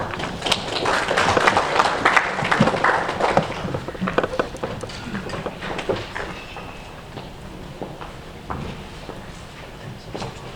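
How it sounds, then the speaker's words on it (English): Seminar audience at a Zimbabwe media event applauding a speaker as he comes forward, a dense patter of many hands that is loudest at first and gradually thins and fades toward the end. "a round of applause for Tichawana Zindoga as he comes forward"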